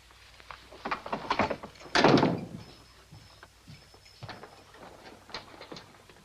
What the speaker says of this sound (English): Lock the door and don't let anybody else in.